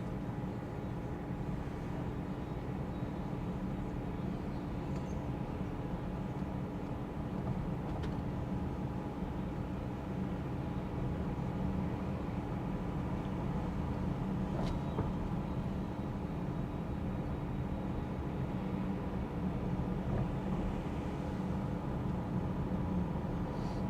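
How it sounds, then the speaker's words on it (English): Loud radiator fans on a Mercedes ML350 give a steady drone inside the cabin during a test drive, blending with road and engine hum, constant and unbroken with no talk. "our radiator fans seem to think they want to go launch mode"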